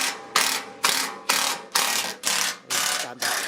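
Ratchet wrench working loose the fasteners on a rusty panel of a Honda S2000, seven sharp clicking bursts repeating at a steady rhythm, close and fairly loud, with no one talking.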